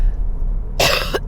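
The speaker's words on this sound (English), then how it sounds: "Excuse me while I just clear my throat." A single short, rough throat clearing, close and fairly loud, after a brief quiet moment.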